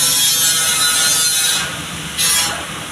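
Construction work from a nearby open site in Benin City, Edo State, Nigeria, a loud steady rasping grind like sawing or power tools that continues, briefly dips, then resumes, with no talking.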